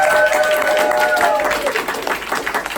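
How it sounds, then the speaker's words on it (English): Audience applause for a performer named Cece after a quick juggling lesson, a dense burst of clapping from a live crowd with a voice talking briefly over it. "let's give Cece a big round of applause"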